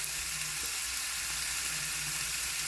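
Trout fillets frying in a pan, a steady close sizzle with fine crackling hiss that stays even throughout, with no talking.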